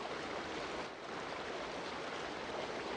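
Falling water curtains forming the walls of the Digital Water Pavilion, a steady broadband rushing and splashing that stays even and continuous, with a brief dip partway through and no voices.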